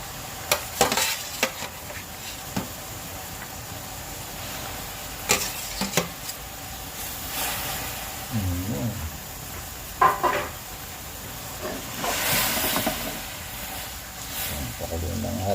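Silver fish fry in a pan with spices while a utensil stirs them, giving soft intermittent scrapes and knocks over a faint sizzle; a voice briefly murmurs midway.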